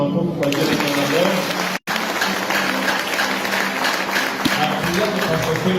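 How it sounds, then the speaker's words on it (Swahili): A church congregation claps together at a Sunday thanksgiving service, a dense steady patter of hands filling the hall with a brief break partway through, mixed with voices. "Tupige Yesu makofi kwa ajili ya leo."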